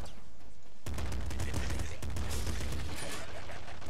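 Gunfire in Nuclear Throne, a dense rapid burst of game shots that kicks in abruptly and rattles on continuously, with a voice speaking over part of it.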